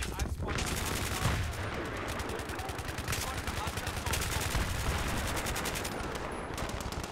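Video game gunfire in a Battlefield 3 capture-the-flag match: dense, continuous automatic fire with overlapping bursts rattles loudly throughout, with no pauses.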